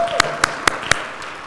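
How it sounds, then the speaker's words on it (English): A few people in a church congregation clap, four sharp, evenly spaced claps ringing in a reverberant room, with a faint tone and light speech behind them. "Can we give these folks a round of applause?"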